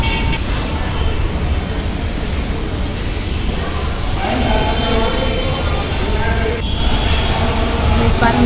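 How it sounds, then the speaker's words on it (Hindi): A narrow-gauge passenger train on a small line rumbles steadily and loudly close by, with occasional metallic clinks, and voices come through faintly beneath the noise. "इस बार हम लोग जा रहे हैं ट्रेन से,"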